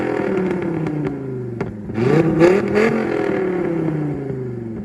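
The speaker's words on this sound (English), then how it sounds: "that wonderful V10 engine under there" A Dodge Viper V10 at a classic car and supercar show at Sherborne Castle revs up close, swelling to a loud, raspy peak in the middle, then settling back to a burbling idle.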